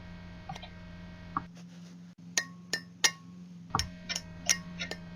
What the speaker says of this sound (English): Here I'm tapping the new bearing race into place. To get it started, I'm using a wood block.